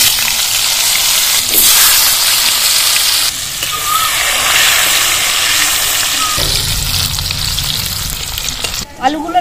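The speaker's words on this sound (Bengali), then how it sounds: "আলুগুলো লাল লাল করে ভেজে নিয়েছি" Cut potatoes fry in hot oil for a Bengali bottle gourd dish, a loud, steady sizzle and crackle throughout, with brief stirring scrapes and a clatter near the end.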